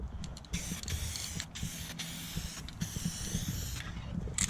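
Short hissing bursts from a spray can lay a thin coat onto a 1970 Plymouth 'Cuda part, with brief pauses between the close, soft sprays.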